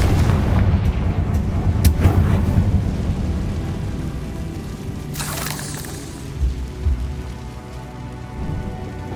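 Confringo fire spell blasts in Hogwarts Legacy, heavy booming impacts and crackling debris in a loud, dense game soundscape, with bursts early on and a sharp blast around the middle.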